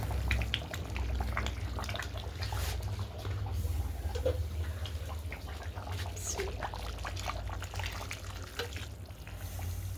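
Water pours into a stew simmering in a pot in a home kitchen, a steady splashing stream running close and fairly loud for the whole stretch, with no talk over it.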